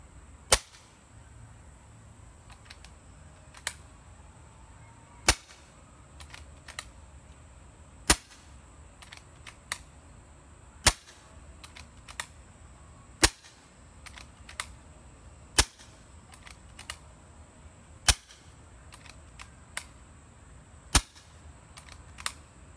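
Shots from a Kral Puncher Breaker air rifle fitted with an MKIII valve kit and firing SSG pellets: nine sharp, loud cracks spaced roughly two to three seconds apart over a quiet background.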